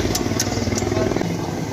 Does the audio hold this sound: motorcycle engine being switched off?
yes